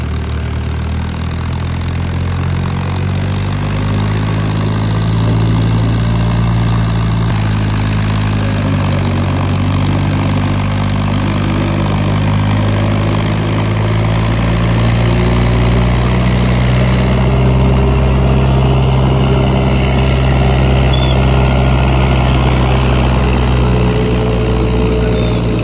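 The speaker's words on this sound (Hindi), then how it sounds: "ये पीछे वाला जो है ना, ये बड़ा पावरफुल ट्रैक्टर है।" A powerful tractor engine idles steadily, a loud, continuous low rumble with a faint high whine that persists throughout, with no talking.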